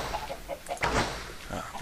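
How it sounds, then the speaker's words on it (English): A chicken in Minecraft clucks in short bursts near a player handling eggs, the game clucks close and clear, with a louder squawk partway through. "Ah, one chicken."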